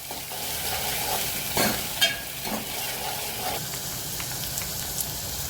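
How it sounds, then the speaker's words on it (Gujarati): Garlic and green chili sautéing in a pan for dhaba-style desi chana masala, an even close sizzle with occasional soft stirring scrapes, steady throughout and without voices. "લસણ મરચું એડ કરી દઈશું। પછી હવે આ બધું સંતરાવા દઈશું।"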